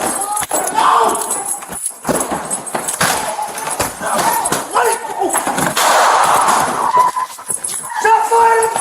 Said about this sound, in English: Shots fired at the police!